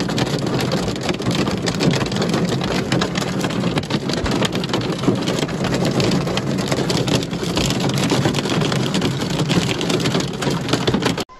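Torrential rain pours during a violent night storm in Palermo, Sicily, a loud, dense and unbroken roar of downpour with wind, continuous throughout and without talk.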